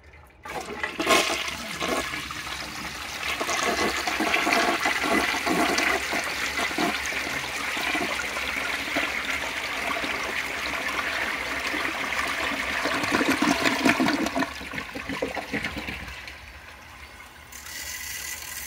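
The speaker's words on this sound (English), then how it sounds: "That is such a great flush" A blue 1972 Kohler Wellworth toilet flushes with a loud rushing gurgle of water that runs for many seconds, then drains away and quiets near the end.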